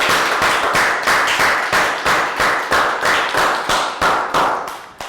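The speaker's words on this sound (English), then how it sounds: "Can we all have a round of applause," A round of applause from a class of Year 3 students during a maths lesson, heard as loud, rhythmic clapping in unison, about three claps per second, each sharp beat decaying before the next, close and with no talking.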